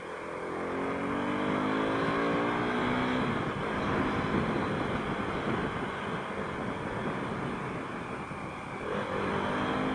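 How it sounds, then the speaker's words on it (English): Motorcycle engine revving and accelerating through clutchless downshifts, with rising and falling engine harmonics and steady, loud road and wind noise throughout. "Again, clutchless downshift, just to get that low gear to zoom off, downshift."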